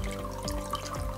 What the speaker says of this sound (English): clean the probe tip in some fresh clean tap water